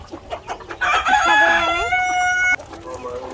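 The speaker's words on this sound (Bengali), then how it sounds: "তো আমাদের এই ফার্মি মুরগিগুলো খাচ্ছে।" Farm chickens kept for eggs, fed on leafy vines, call out nearby in a loud drawn-out squawk lasting over a second, with softer clucks around it.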